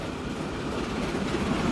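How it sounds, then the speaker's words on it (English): Two trains pass each other on rails in the video game Transport Fever, a steady rolling rumble of wheels on track with faint clattering, continuous and moderately loud. "We'll get a nice little shot here of our two trains meeting"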